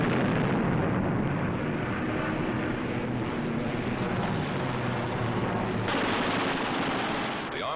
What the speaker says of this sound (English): With the touch of the finger on the stick, a camera and 8 machine guns are put into action.